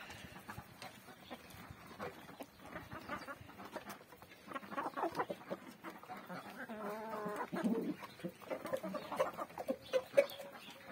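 Hens clucking and murmuring as they eat ground grain feed, a close, busy mix of chatter and pecking that grows louder toward the end, without speech over it.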